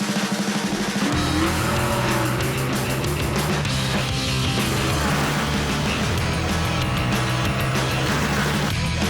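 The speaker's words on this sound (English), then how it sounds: "Behind me is Danica Patrick's custom Sonic and All-Stars Racing transformed car" Danica Patrick's custom Sonic and All-Stars Racing Transformed race car roars at Texas Motor Speedway, a loud continuous engine howl rising and falling in pitch with revving throughout, nothing else heard.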